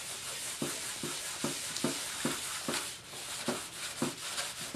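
Sandpaper lightly rubbed over a homemade clayboard panel, giving a steady run of soft, close scraping strokes in an even back-and-forth rhythm of about two per second, with no voices.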